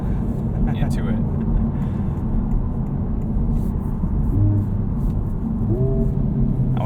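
A 2023 Honda Civic Type R engine rumbles steadily while the car is driven, a low, loud drone with a few brief higher tones over it.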